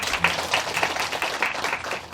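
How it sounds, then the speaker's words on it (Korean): An audience of parents claps in warm appreciation after a talk at a Korean high school information session for incoming students, a short burst of dense, fairly close applause that lasts just over two seconds. "다시 한번 큰 박수 부탁드립니다"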